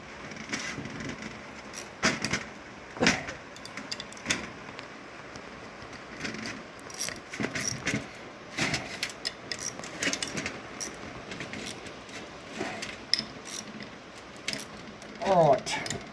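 Parts of a Peerless 1000 being tightened down during reassembly, heard as sparse, faint mechanical clicks and ratchet-like taps scattered over a quiet background, with a slightly louder burst near the end.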